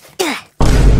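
A Roblox death sound from the video game: a brief descending vocal-like tone, then a short gap, then a loud, harsh, distorted blast that fills the rest of the moment.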